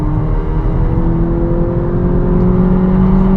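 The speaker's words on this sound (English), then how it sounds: "You can rev this engine out, then it changes up itself automatically." A VW Polo GTI's engine revs while it drives with an automatic gearbox, a steady, rising whirring drone heard from inside the car, loud and continuous with no talk.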